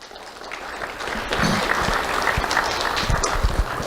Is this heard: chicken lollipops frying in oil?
no